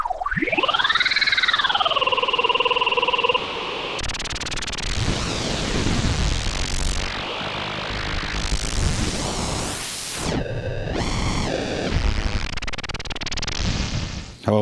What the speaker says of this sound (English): How about we look at a white noise now?